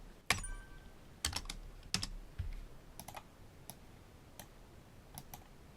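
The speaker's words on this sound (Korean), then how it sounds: "가로 닫고 엔터 누를게요" Keys struck on a computer keyboard during spreadsheet formula entry: a few sharp close clicks spaced out, with one firmer keystroke like Enter among them, in a quiet room with no talking.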